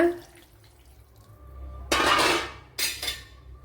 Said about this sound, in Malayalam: ആവശ്യമായ വെള്ളം കൂടെ ഒഴിച്ചു കൊടുക്കുക